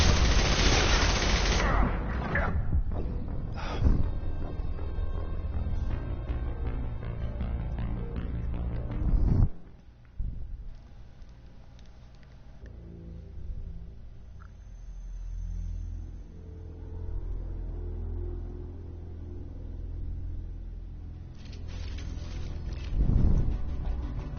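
Gunfire in Mass Effect 2: loud rapid bursts of automatic weapons and sharp shots crowd the first stretch, then fade to a quieter rumbling lull before another close burst near the end.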